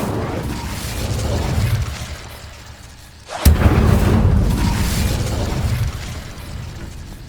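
An Incendio fire spell is cast in Hogwarts Legacy: a sudden loud burst of flame erupts midway, then a heavy roaring rumble sustains for several seconds before easing off.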